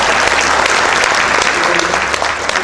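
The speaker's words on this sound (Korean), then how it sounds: "박수 한번 쳐주시기 바랍니다" A church audience at a New Year service applauds. The dense, steady clapping fills the hall at full volume from start to finish.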